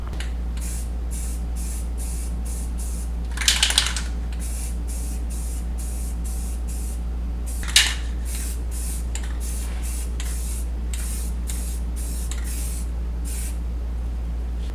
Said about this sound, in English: I'm just going to spray it with some of this Rust-Oleum rust reformer here